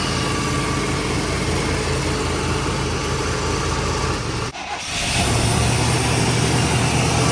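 A freshly installed 350 V8 in an '89 Chevy K1500 pickup runs at a steady, loud idle, a continuous low rumble that dips briefly for a moment before settling into a slightly fuller, even drone.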